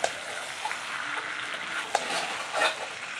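Chicken curry with potatoes sizzling in a pot over a wood fire, with a steady frying hiss and occasional scraping clinks of stirring, close and without talk.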